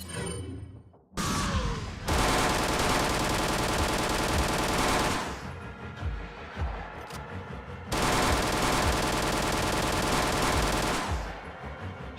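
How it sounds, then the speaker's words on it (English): Bursts of rapid automatic gunfire in the Resident Evil 4 game, loud and close, two long sustained volleys separated by a brief lull, with no talking. "Shooting him in the dick for extra damage."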